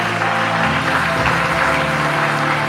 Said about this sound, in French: Acclame bien, bien, bien.